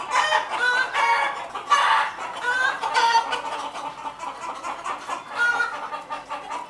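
A flock of chickens from a bird-flu-resistant breed developed in Jabalpur clucks continuously and close by, with overlapping calls and a few drawn-out, crow-like notes rising above a busy, steady murmur.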